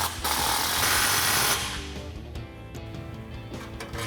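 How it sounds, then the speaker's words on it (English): A 15mm socket wrench tightens a muffler clamp on a Jeep Wrangler JK's cat-back exhaust, giving a close, loud burst of rapid ratcheting and grinding that fades into quieter metallic clicks and taps. "Take a 15mm socket to tighten down my clamp."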